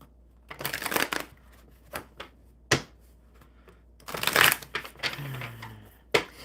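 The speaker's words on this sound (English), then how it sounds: "One more good shuffle." A deck of cards gets shuffled up close on a live coffee-and-cards stream, several quick riffling bursts separated by short pauses, with a faint voice murmuring briefly near the end.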